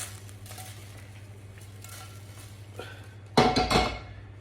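Food being stirred in a pot of slow cooker chicken jalfrezi: a low background hum, then a loud clattering burst of utensil against pot near the end.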